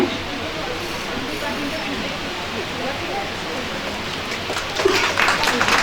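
Steady broadband clapping from an audience at a college prize distribution ceremony, a dense sustained wash that swells slightly louder near the end, with some voices mixed in.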